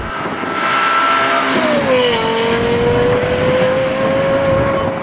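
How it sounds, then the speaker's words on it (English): A Lexus LFA supercar engine roars loudly and continuously from close by while driving in normal mode, its pitch dropping then holding steady as it cruises. "That is the best sounding car I've ever heard in my life."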